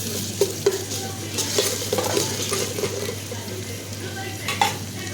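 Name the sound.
ginger and whole spices frying in tempering oil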